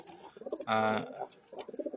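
A single Giribaz pigeon coos in a short, throaty burst in the middle, with softer bird chirps and rustling before and after it.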